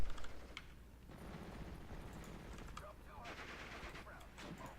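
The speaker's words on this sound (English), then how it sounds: "So now my anti-tank gun's opening up on these guys." An anti-tank gun and other weapons firing in the WWII strategy game Steel Division: Normandy 44, heard as a quiet, distant rattle of repeated shots with a louder burst at the start, under a low battlefield din and some faint talk.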